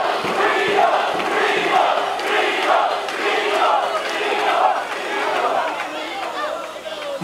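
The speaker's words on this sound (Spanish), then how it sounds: "brazos en alto, fuerte el aplauso" Crowd noise at a cycling award ceremony for the CRE Tour Colombia, a steady dense roar of cheering, clapping and voices filling the whole stretch.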